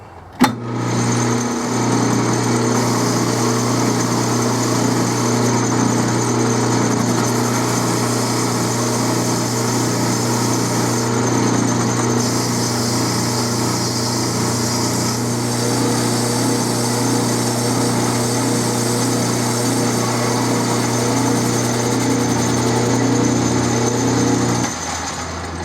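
A metalworking machine runs steadily while hogging out 303 stainless steel, a loud continuous mechanical drone with a strong low hum and a high whine that shifts once, holding alone with no talk for about twenty-five seconds.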